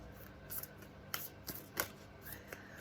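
Soft, quiet riffling and slapping of a matte oracle card deck being shuffled, several short bursts close by with no voices.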